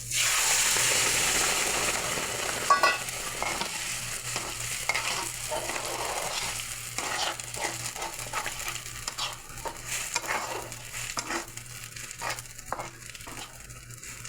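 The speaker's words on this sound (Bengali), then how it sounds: "এবার আমি এই যে সেদ্ধ করা পাট শাকটা ঢেলে দেবো।" Boiled jute leaves hit a pan of fried shrimp with garlic, onion and dried chili, a sizzle that fades into scraping and stirring clatter over a steady low hum.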